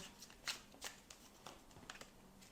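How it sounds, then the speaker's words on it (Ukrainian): A deck of tarot cards is shuffled by hand. It sounds like a series of soft, papery riffles and flicks at uneven intervals, close but quiet, with no speech. "Я перед вами тасувала карту."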